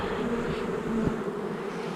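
A swarm of honeybees buzzing in front of a hive entrance, a dense steady hum close by with no voices.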